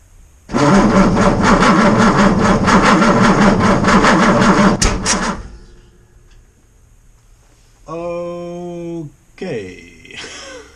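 A Jaguar MK2 engine with new carburettors cranks over loudly for about five seconds with a rhythmic churning but does not catch, followed by quieter mechanical noises and a short tonal burst.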